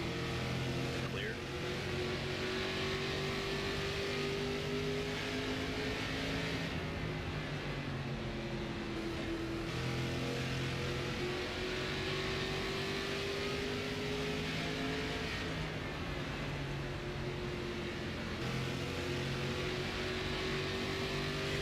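Race car engines from the NASCAR 25 video game hold a constant, dense drone of several cars at steady high revs, with slowly shifting engine tones. A player talks over the engine noise.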